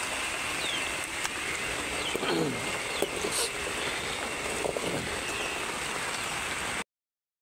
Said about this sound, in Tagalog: Maulan kasi.